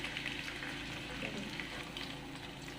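Two to three medium onions sizzle in hot oil in a pan for a creamy chicken malai handi curry, giving a steady, close frying hiss with faint crackles and no talking.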